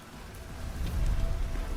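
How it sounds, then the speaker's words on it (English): Steady rain falls in the Goddess Fall video game, a soft continuous patter that swells slightly louder midway, with no voices present. "The only thing I hear is rain."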